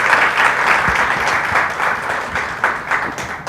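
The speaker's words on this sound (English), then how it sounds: "Can we have a big round of applause for Archana ma'am?" A big round of applause comes from an audience at a leadership session, with loud, close clapping that holds steady before thinning toward the end, and a few individual claps standing out.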